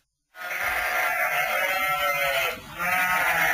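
Wonosobo sheep, a large meat breed raised by Indonesian livestock farmers, bleat continuously and loudly at close range, one long wavering call followed by another after a brief dip.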